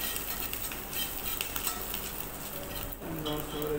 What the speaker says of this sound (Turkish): Kuyruk yağı eriteriz güzel bir şekilde.